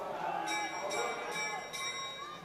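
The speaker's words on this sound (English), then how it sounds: "Gicka and Creeder, there's the bell for 1 lap to go." Bell rung for the final lap of a long track speed skating race at a national championship, four sharp strikes about half a second apart, heard under an announcer's commentary and crowd noise.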